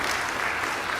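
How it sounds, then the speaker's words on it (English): Audience at the 42nd Keeywaywin Conference of Nishnawbe Aski Nation applauds the conference staff from Constance Lake, a dense, steady wash of clapping filling the whole second. "A big round of applause for setting it up."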